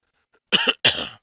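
A man with a lingering cough gives two quick, harsh coughs, close and loud, with a brief gap between them and silence before.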